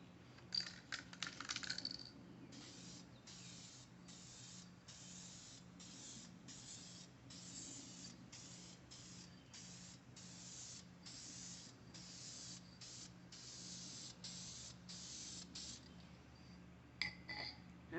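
Spray can coating a faded plastic fender liner in short, regular bursts, each hiss a second or so long and separated by brief pauses, fairly quiet and close, with a few scraping knocks at the start.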